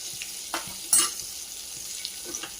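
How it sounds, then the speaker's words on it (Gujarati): White butter sizzles in a hot pan with a soft crackling hiss, punctuated by a few sharp pops and spits, close and moderately loud. "એટલે આ વ્હાઈટ બટર જ છે એટલે એનો અવાજ આવી રહ્યો છે"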